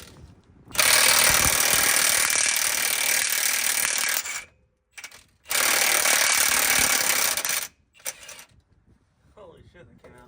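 A power tool roars loudly while removing a Kenworth semi truck's carrier bearing, running in two long sustained bursts separated by a short pause, then cutting off to quieter clatter at the end.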